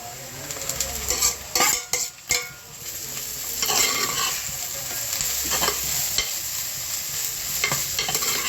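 Chopped ginger, green chili and garlic frying in a pan for fish pickle, with steady sizzling broken by repeated scraping and clanking of a spoon stirring against the metal pan.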